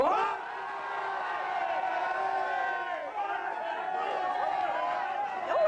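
Hurling fans in a pub, Tipperary supporters, cheer and chant together, a dense, sustained crowd roar with whoops and overlapping voices rising near the end.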